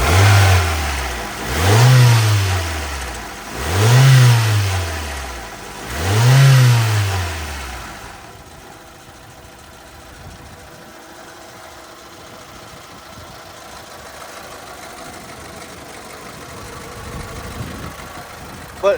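A 1997 Honda CR-V with 33,000 original miles revs three times in quick succession, each rise and fall loud and close, then settles into a steady, quieter idle.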